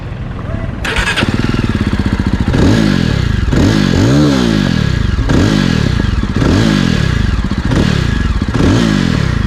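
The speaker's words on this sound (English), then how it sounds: "So here you can listen the sound of engine, silencer, twin exhaust of this customized silencer" A 2020 Jawa Perak BS6 motorcycle with a customized twin exhaust silencer starts up after a brief mechanical clatter, then idles loudly with a series of sharp throttle blips rising and falling in a repeating rhythm.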